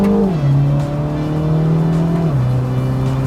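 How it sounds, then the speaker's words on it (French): A MINI John Cooper Works driven hard, its engine droning loud and close as it shifts pitch, with tires squealing under load throughout. "Vous avez vu comment elle dérape à l'avant?"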